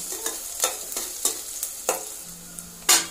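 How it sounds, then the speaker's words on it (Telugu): Onions frying and sizzling in a pan for a bachelor-style chicken curry, with a spoon scraping through them in a series of sharp stirring strokes and a louder final scrape, close and alone. "ఆనియన్స్ వేగలేండి. కాసేపు అయినా మళ్ళీ కొంచెం ఇట్లా కలుపుకోవాలి, లేకపోతే ఆనియన్స్ మాడిపోతాయి."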